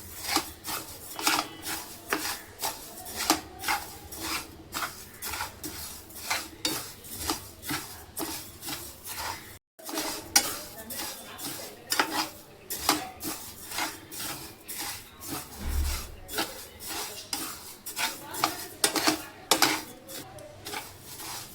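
Roasted fennel seeds are stirred in a hot pan, a steady rhythmic scraping and clinking of a utensil against metal with rattling seeds, continuing close and clear throughout with no talk.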